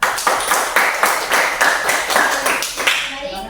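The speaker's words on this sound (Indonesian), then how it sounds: "Kasih tepuk tangan." A small group of students in a classroom claps in a rhythmic, fairly loud burst, individual hand claps audible within the patter before it dies away at the end.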